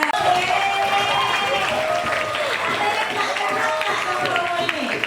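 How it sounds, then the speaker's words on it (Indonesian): Audience applause at a seminary anniversary talk show, a dense steady wash of clapping from a large crowd lasting throughout, with voices and murmur mixed in. "Boleh tepuk tangan ke Romo Juli"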